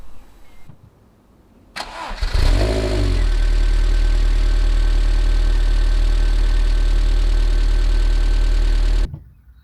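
A rebuilt MG TF 160 VVC engine cranks and fires into life after a quiet moment, then settles into a loud, steady idle before cutting off abruptly.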